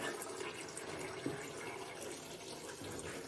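Transmission oil pours out of an Aisin Warner TF-80SC automatic gearbox during an oil change, a faint continuous liquid trickle with no one speaking.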